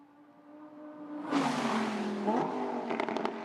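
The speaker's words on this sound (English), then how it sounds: "That's the Lamborghini hurtling past the wall cam. And then the different sounds, different engine notes boom past as well." A Lamborghini GT4 race car at Hockenheim roars past a trackside wall camera. A steady engine drone swells suddenly into a loud, close, broadband rush, then falls away with crackling bursts at the end.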